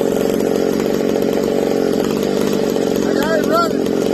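A McCulloch chainsaw runs loud and steady right up close, its engine drone holding throughout with a couple of brief rising revs near the end.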